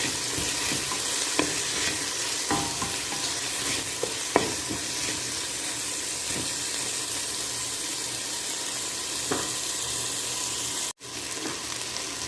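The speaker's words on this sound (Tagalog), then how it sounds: "Ihulog natin yung ating carrots." Sliced carrots are added to chicken in a pan for sotanghon guisado, with a steady loud sizzle of frying and occasional scraping stirs.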